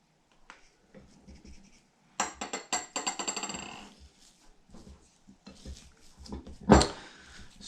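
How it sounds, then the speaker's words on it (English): A spatula scrapes and slaps through thick peanut butter cookie dough in a bowl, with irregular strokes and knocks, one louder clack near the end, close and fairly quiet with no talking. "as you mix this, it should kind of come into a dough on its own that kind of doesn't really want to stick to the spatula anymore"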